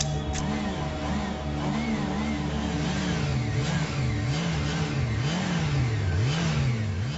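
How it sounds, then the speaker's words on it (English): A police motorcycle engine revs repeatedly on the streets of Manila, its pitch rising and falling in close, steady waves above a low street background. "The motorcycle unit are a highly visible presence on the streets of Manila."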